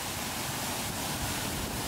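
Large waterfall beside the rocky Kungsleden trail in northern Sweden, a steady, dense roar of rushing water that fills the whole short stretch without a break, close and fairly loud.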